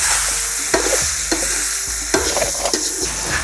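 Ginger and raw coconut are stirred into a sizzling pot of Telangana-style country chicken curry with turmeric; a spoon scrapes the pan in a regular rhythm over a constant loud frying hiss.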